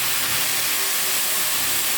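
Ingredients sautéing in a pan, giving a steady, loud, even sizzle and hiss with no pauses, heard alone without voices.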